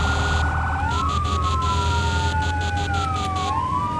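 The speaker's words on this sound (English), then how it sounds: "Alright, so where's our horn? Horn sounds pretty legit." A fire truck horn in the Firefighter Simulator video game blares loud and continuous, with a wailing emergency siren sweeping up and down beneath an engine rumble.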